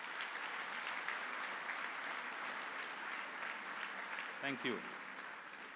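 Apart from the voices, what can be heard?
audience applause for graduates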